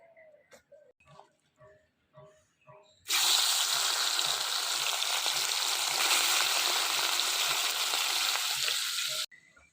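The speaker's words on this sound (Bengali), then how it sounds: "এই দেখুন মনে হচ্ছে ফাঁকা তেলে মাছ ভাজতেছি" After some quiet clatter, a loud, steady sizzle of fish frying in hot mustard oil in a pan bursts in and continues for several seconds, then cuts off.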